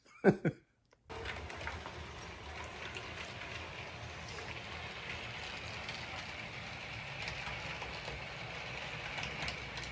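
Model railway trains run steadily through the whole stretch, a continuous low rumble and whir of small wheels and motors on track, after a brief burst of handling noise at the very start.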